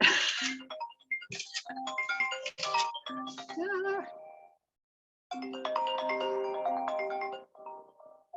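A phone ringtone plays a bright electronic melody nearby, pausing briefly before the ringing starts up again.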